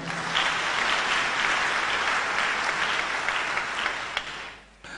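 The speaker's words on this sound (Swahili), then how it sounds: "Makofi kwa Mungu." Applause from a church congregation fills the air during a Swahili sermon, a dense steady clapping that carries for several seconds before tapering off at the end.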